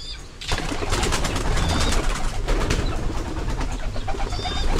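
Pigeons kept as pets coo steadily and close by in a busy, continuous chorus, with occasional faint wing flutters and no talking.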